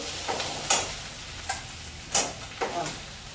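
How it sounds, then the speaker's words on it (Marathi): Onion roasting in a pan for stuffed capsicum gives a steady low sizzle broken by four or five sharp spoon scrapes and taps at uneven intervals, with no one speaking. "कांदा घालायचा कांदा चांगला भाजून घ्यायचा"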